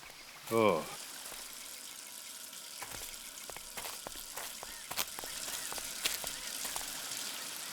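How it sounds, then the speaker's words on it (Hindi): Water from a burst pipe sprays with a steady, broad hiss that holds for the whole stretch. A short voice cuts in near the start, and faint scattered clicks and knocks sound behind the spray. "यहाँ पे पानी की पाइप फटी हुई है।"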